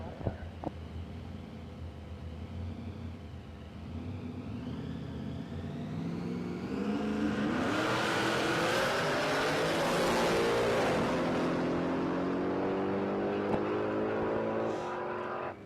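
A Ford Mustang and a Ford Bronco drag racing at a raceway, engines roaring loud and steady as they accelerate hard, pitch climbing through gear changes and peaking mid-run before holding a sustained high-revving drone.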